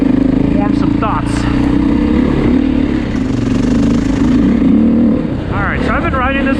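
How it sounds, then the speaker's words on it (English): A 2024 Beta 430 Race dirt motorcycle engine drones steadily and loudly while being ridden on a three-mile trail loop, with continuous rumble and occasional revs throughout. "So I've been riding this 430 for a little bit now here on this demo loop"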